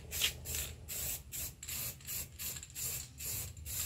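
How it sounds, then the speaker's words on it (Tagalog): Black spray paint is sprayed onto a metal three-layer water rack in a series of about nine short hissing bursts, each roughly a quarter second, evenly spaced and close with no talk. "itong spray paint na color black, pero lalagyan ko siya ng primer muna na gray"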